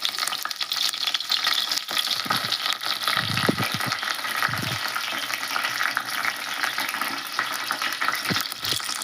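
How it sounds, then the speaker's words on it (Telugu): Curry leaves crackle and sizzle in hot oil with crushed garlic for a Telugu malabar spinach dal tempering, a dense steady frying hiss with sharper pops and a few stirring knocks, close and continuous. "కరివేపాకు వేస్తున్నాను."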